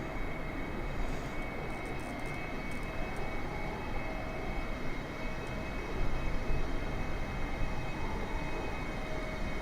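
Boeing 747 in KLM livery flying in Microsoft Flight Simulator, a steady, loud cabin drone of engines and airflow with an even, unbroken roar throughout.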